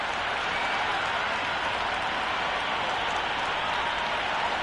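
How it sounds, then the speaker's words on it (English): A crowd at a Mumbai vs Sikkim Vijay Hazare Trophy cricket match in 2025 cheers and applauds in a dense, unbroken roar of clapping that fills the stadium. "this crowd is already making it hard for me to be heard"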